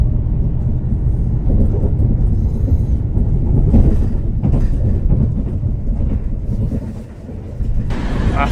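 A train rumbles steadily through York Station, a loud continuous rolling roar with wheel clatter and brief brighter bursts as carriages pass close by.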